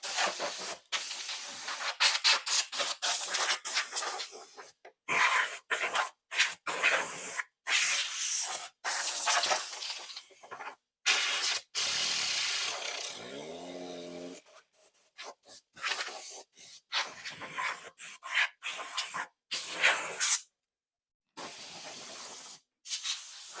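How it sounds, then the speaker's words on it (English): Compressed air blasts in repeated bursts of loud hissing spray to blow dust out of a Williams World Cup pinball machine in a shop, with short gaps of silence between the blasts and no talking. "you can blow the game out with like an air compressor to get some of the dust out of there"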